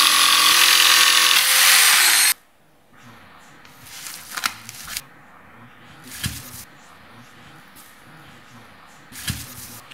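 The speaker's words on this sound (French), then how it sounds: "Puis, scie avec la scie sauteuse." A jigsaw roars loudly and steadily for about two seconds cutting a laminate floor board, then cuts off, leaving quieter scraping and clattering handling noises.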